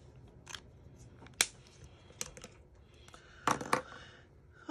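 Scissors trimming paper for a Stampin' Up treat box, a few quiet crisp snips and papery clicks scattered over a soft background, close by with no talk.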